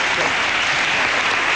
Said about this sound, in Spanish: vamos a darle un abrazo fuerte en forma de aplauso a René Laval